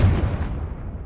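Confringo blasting spell from Hogwarts Legacy going off as a deep, rumbling boom that starts loud and decays over about a second, heavy low-end with no voices.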